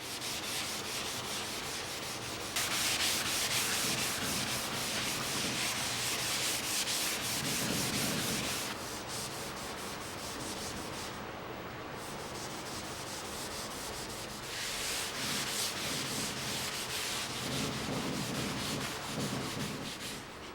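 Electric sander working over painted wooden furniture during a restoration, a steady loud rasping hum that runs the whole time with shifts in pitch and intensity as pressure and position change.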